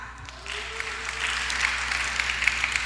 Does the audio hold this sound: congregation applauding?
yes